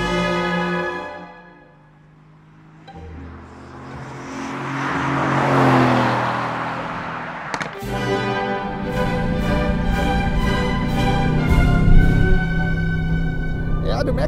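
A Mercedes-AMG GT engine pulls hard on an open road, its tone climbing steadily through the gears and growing louder toward the end, with voices talking over it.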